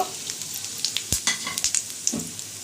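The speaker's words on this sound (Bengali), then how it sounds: "শুকনো লঙ্কা নিয়েছি এক এলাচ দারচিনি লবঙ্গ জিরে তেজপাতা এগুলো আমি এখন কড়াই ফোড়ন দেব" Dry red chilli, cardamom, cinnamon, cloves, cumin and bay leaf crackle and sizzle in hot oil in a kadai, with soft stirring clicks and scattered pops at close range.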